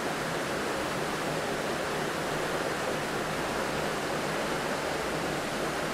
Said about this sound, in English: And I must admit the river is very, very loud.